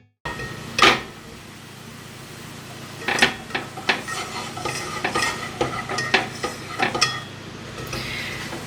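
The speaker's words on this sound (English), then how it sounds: "Let's just make a nice little roux there. So you cook that out for 2 minutes before you add in any of the liquid." Roux cooking in a pan while being stirred, soft sizzle under repeated scrapes and clinks of a utensil against the pan, alone and close, with a few louder knocks.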